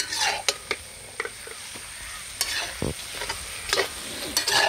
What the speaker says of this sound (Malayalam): ഇതിനൊന്ന് നല്ലപോലെ ഇളക്കി കൊടുക്കാം